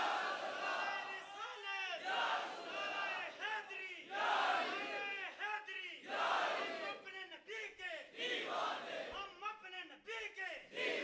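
A large gathering at an annual Urs religious event in Chandawal shouts back in unison to the Nara-e-Takbir call, with loud, repeated bursts of crowd chanting that rise and fall several times across the stretch.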